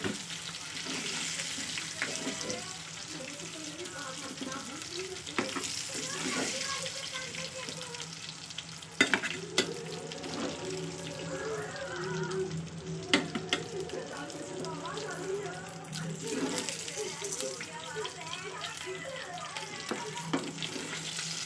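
Fish frying in a pan at home, a steady sizzle with scattered clinks and scraping as pieces are lifted out, running continuously at moderate level with no talk.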